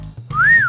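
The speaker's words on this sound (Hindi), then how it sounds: "ओ विसल किंग, बड़ी भिन्न भिन्न प्रकार की सीटियां बजानी आती हैं तने तो।" A person whistles one short, clear rising-and-falling note, close and loud, after a brief rustle.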